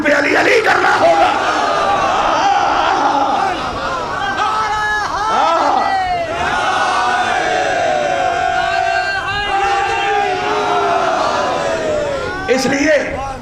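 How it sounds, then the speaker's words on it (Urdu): A large crowd at a religious majlis in Agra chants 'Ali Ali' as loud, overlapping massed voices, with yells rising and falling close by throughout. "یہ ہم جو نعرے علی علی کے لگاتے ہیں"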